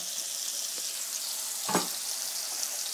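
Pork chops and mushrooms sizzle gently in a pan over low heat, a steady soft frying hiss with one brief clatter near the middle and no talking.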